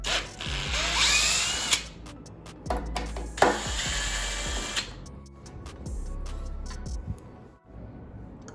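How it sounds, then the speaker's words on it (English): Electric screwdriver with a T25 bit backing out four front screws on a Bird 3 electric scooter, several short whirring bursts with pauses between them, close and fairly loud. "using a T25 to remove these 4 screws in the front."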